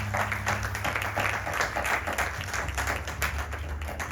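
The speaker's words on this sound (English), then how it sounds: "Please give Ganesh a round of applause." An audience at a Ganesh Chaturthi festival night applauds steadily, a dense wash of many hands clapping at moderate distance over a low background hum, with no talk.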